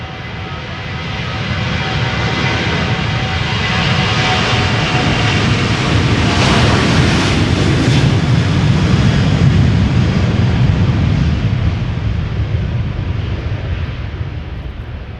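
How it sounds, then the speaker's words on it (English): A Georgian Airways Boeing 737-700 takes off from Schiphol's Polderbaan, its jet engines building into a loud, close, sustained roar with heavy low rumble that peaks midway, then begins to fade gently, no voices present. "Georgian Airways going to Tbilisi, 737-700, let's go."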